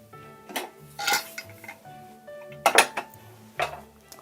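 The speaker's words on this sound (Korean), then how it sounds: "가장 먼저 압력솥에 전복을 넣어줍니다" Abalone going into a pressure cooker, with several sharp metallic clanks and clinks of shell against the pot spaced out over a few seconds, close and clear with no talking.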